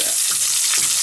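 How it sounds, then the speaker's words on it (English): Chicken roulade searing in hot oil in a pan, a steady, loud, broadband sizzle with crackling throughout. "It's cooked already, but we're just gonna sear them"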